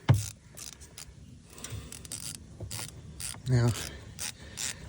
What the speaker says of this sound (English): and then we'll remove the drain plug.